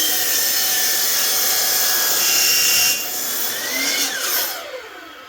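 A DeWalt construction handsaw rasps through an oak cant in steady back-and-forth strokes, close and fairly loud, the rhythm slowing and fading toward the end.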